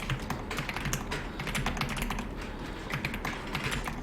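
Fingers type quickly and steadily on a Dokgum computer keyboard during an Excel practice session, a dense, close patter of key clicks with no talking.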